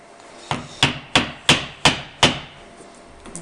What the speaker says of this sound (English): I will take a chisel and get the majority of it out